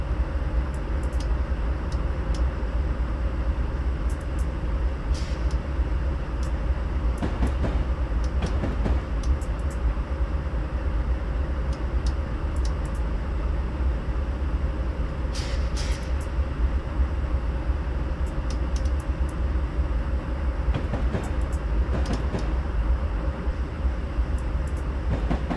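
A train rolls steadily along the rails with a continuous loud rumble, and clickety-clack wheel beats come through at intervals.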